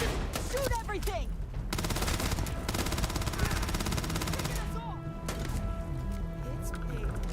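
Rapid automatic gunfire in the sci-fi game Starfield, dense bursts of shots rattling continuously over game effects and swishing sounds, loud and close.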